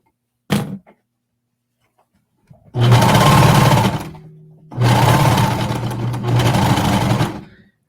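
A sewing machine stitching leggings runs in three loud, steady bursts with brief pauses between, preceded by a short click, close up with no talking.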